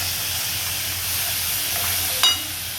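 Oil and masala sizzle steadily in a pan during sautéing, a close continuous hiss with a brief louder stir or clatter near the end and no talking.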